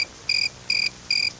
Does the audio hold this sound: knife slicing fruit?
no